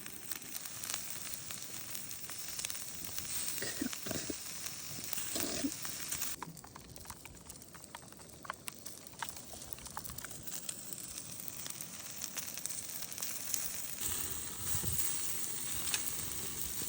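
Oiled vegetables seasoned with chili powder and salt sizzle over a campfire at a sand-fly-ridden camp, a steady bright hiss and crackle lasting throughout with a few louder pops and spits.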